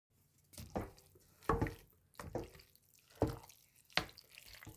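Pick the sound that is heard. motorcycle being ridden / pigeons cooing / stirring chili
stirring chili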